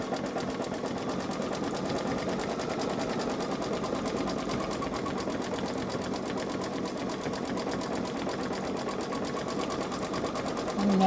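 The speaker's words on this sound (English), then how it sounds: "And he's doing a beautiful job of satin stitching." A Babylock Solaris 3 embroidery machine sews satin stitching in a steady, fast, continuous mechanical hum with rapid needle rhythm, close and even throughout without pause.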